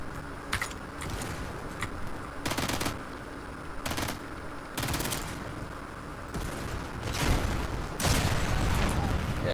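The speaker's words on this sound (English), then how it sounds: "it's easier just with the rifle shooting that little broken panel on it" Rifle fire in Sniper Elite 5 aimed at a small broken panel, with several sharp, spaced shots that crack over steady game background noise, and someone talking between them.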